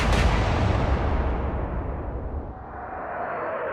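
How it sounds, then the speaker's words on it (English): One heavy naval artillery salvo in the Atlantic Fleet video game booms loudly and close, then rolls off into a long, fading rumble. "I'm going to fire at this elevation."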